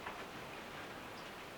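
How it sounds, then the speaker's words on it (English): Rain falls steadily outside an off-grid cabin in the Canadian wilderness, a soft, even hiss with no talking, faint and continuous throughout. "it's still raining out"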